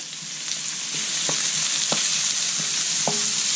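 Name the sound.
onions sautéing in a pan over medium-high heat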